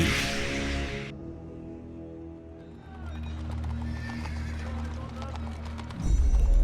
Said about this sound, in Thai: ดอมบี้กับเบอร์วิกได้พาไฟโลนั่งรถม้าออกมาจากคุก